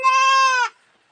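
A single goat on a farm gives one loud, close bleat that holds steady for a moment and then cuts off, leaving silence after it.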